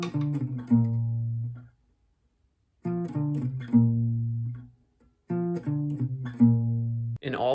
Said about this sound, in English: So those last 4 notes of section 3 would sound like this.